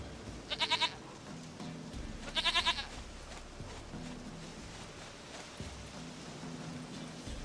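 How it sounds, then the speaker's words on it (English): In The Witcher 3: Wild Hunt, a goat gives two short, quavering bleats, each a rapid stutter of pulses, over a quiet game ambience with faint low tones. "Goat of mine, dearest,"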